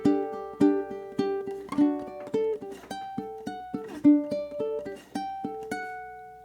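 Ukulele picking out the opening four bars of a song, a bright, steady run of plucked notes played alone at close range with a few louder accented hits.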